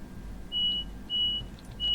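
A train cab buzzer in Train Simulator 2020, on a Class 350 electric unit, gives three evenly spaced high beeps over a low, quiet cab hum.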